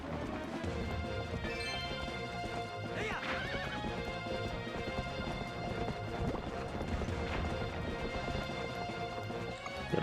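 A horse in the GameCube game Zelda: Twilight Princess (Japanese version) whinnies and clip-clops along under dense, continuous game music and effects, staying steady and fairly loud for the whole stretch.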